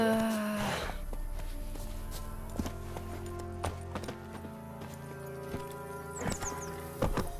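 Horse hooves clip-clop at a steady walking rhythm while riding in The Witcher 3: The Wild Hunt, close and fairly quiet, with a brief whinny at the start and a few louder hoof thuds later.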